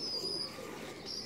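Domestic pigeons kept for fattening squabs coo softly in a loft, a low murmuring drone under faint background hiss with no talking.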